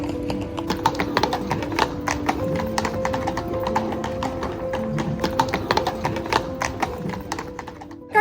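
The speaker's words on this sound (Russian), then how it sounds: "И слышите цокот копыт? Это лошадки возят туристов в каретах." Horse hooves clip-clop steadily as carriages carry tourists through evening streets in Kraków, the sharp, regular hoofbeats sounding fairly close over a continuous background hum, with no speech.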